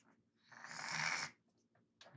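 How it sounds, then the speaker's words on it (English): Someone snores nearby: one drawn-out raspy snore swells and fades over about a second, followed by quieter breaths and the start of another snore, faint and alone. "snoring like a boss."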